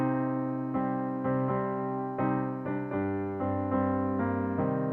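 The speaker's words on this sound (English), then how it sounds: "And then the other one is called a minor chord." A piano plays a minor chord pattern, with several struck chords and notes sustaining and overlapping in an even, moderate rhythm, soft and close with no voices.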